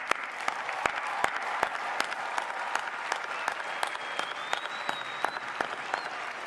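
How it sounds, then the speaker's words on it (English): Commencement crowd applause for graduates at UNC-Chapel Hill, a steady, moderately distant wash of clapping with sharp individual claps popping out at irregular intervals, sustained throughout with no speech. "How about one more round of applause for our graduates?"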